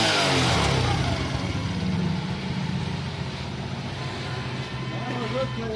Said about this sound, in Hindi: ये मोटरसाइकिल स्टार्ट हो गया